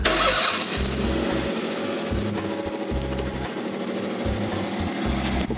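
Small kei car engine idles close up with a steady, buzzy rumble and slight rhythmic pulsing, a brief louder burst at the start, no talking over it.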